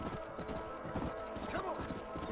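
Horses' hooves clip-clopping in Red Dead Redemption, a quick irregular patter of hoofbeats close by, with a brief whinny-like tone partway through over steady background noise.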